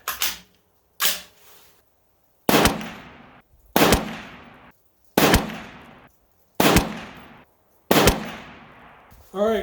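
A 6.5 Grendel rifle fires on an outdoor range, seven loud sharp shots spaced about a second or more apart, each cracking and ringing out, with no one talking between shots.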